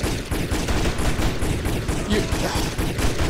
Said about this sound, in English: that's the only good part of the shooting, is blowing shit up